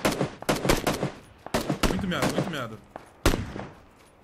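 Gunfire in the battle royale game PUBG (Battlegrounds), several sharp bursts and single shots in uneven clusters, loud and close, with a player's voice speaking briefly among the shots.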